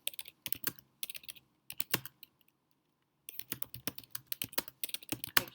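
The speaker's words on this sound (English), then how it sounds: "I can't type tonight" Rapid computer-keyboard typing in quick bursts of clicky keystrokes, a brief pause near the middle, then a dense run of keys; close and fairly quiet, with no voices.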